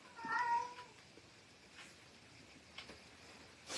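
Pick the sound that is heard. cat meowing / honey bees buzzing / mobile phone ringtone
cat meowing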